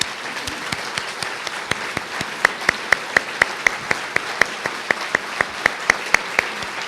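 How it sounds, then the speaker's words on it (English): An audience applauds teachers and instructors at a keynote banquet, producing steady, rhythmic clapping with sharp individual claps standing out over a dense wash of hands, moderately loud and free of talk. "would you please stand and let us applaud you?"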